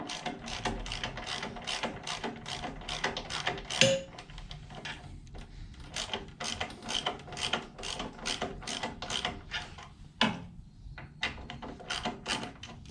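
A ratchet tightens a bolt on a Honda Ruckus frame brace (stiffler bar), rattling off rapid, close clicks in repeated back-and-forth strokes with short pauses between bursts.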